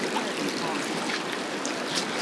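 Steady, dense rush of hot spring water pouring down a small waterfall in Georgia, a continuous close splashing wash with no pauses.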